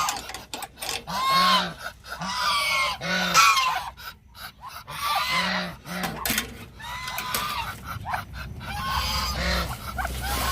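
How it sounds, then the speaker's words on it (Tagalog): Pure Indonesian Muscovy ducks in a backyard farm give repeated honking, goose-like calls in irregular bursts, close and loud, with a low throaty undertone and no talking. "yung update sa ating pure Indonesian Muscovy duck. So, eto na sila."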